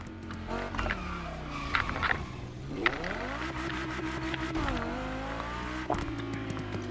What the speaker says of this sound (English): Tu vas conduire la seule électrique de Hoonigan et probablement le bolide de Gymkhana le plus puissant, l'Audi Unitron